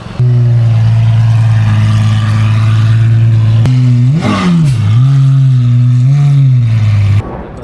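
Lamborghini Aventador engine revving loudly and close, a steady high idle-like drone that rises in a sharp rev burst midway, dips, then swells again before cutting off near the end.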